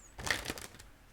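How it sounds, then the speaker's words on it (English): Tarot cards being shuffled in a brief burst of close, papery riffling with a few soft flicks, fading after about a second, with no voices. "they were pre-shuffled, but just gonna wake them up just a little bit more."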